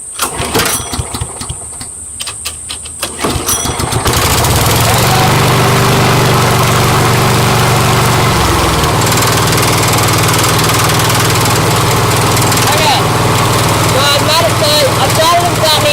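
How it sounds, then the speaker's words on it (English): A lawn mower engine under rebuild is pulled and rattles through several uneven attempts, then catches and roars into a loud, steady run close by. A voice speaks briefly at the start. "I started it without needing to put a bit of fuel in it."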